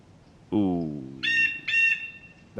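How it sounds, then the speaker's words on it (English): A loud bird calls in the DayZ game world: a falling, throaty tone comes first, then two higher, clear whistled notes in quick succession, and a final call starts just as the clip ends, all over quiet background. "That bird is unnecessarily loud."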